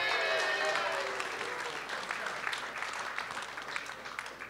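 Applause from the audience at a soccer club town hall Q&A starts strong and gradually thins out, with a voice briefly audible at the start.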